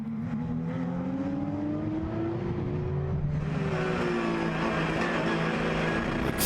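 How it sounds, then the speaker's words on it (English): A race car accelerates hard along the straight at the Jyllandsringen circuit, its engine note climbing steadily through the gears with a shift partway through, loud and continuous with no talk. "Accelerating away on the straight."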